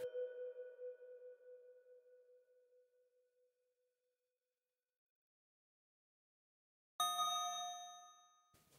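A synthesized bell in Studio One, following the song's chords, chimes and slowly decays into silence, then after a pause a brighter bell chord rings out, bright and clear, with no voices.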